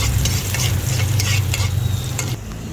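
Garlic frying in a pan while cooking chili halang-halang gives a steady, close sizzle with a low rumble underneath and occasional stirring scrapes, with no talking.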